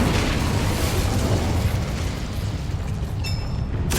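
Incendio fire spell cast in Hogwarts Legacy, a loud, sustained roaring blast of flame that fills the whole moment and tapers into a brief whoosh and fizzle at the end.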